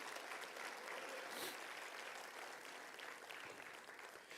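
Congregation in a church service applauding together, a steady dense wash of many hands clapping, fairly distant and faint, sustained for several seconds without speech on top.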